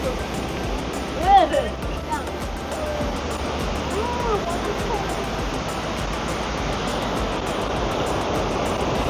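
Aira Force waterfall in the Lake District, a steady broadband rush of falling water heard close by, with a person talking over it.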